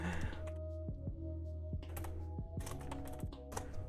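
Rapid typing on a computer keyboard with a Mexican Spanish layout, a close run of irregular key clicks over a steady background hum.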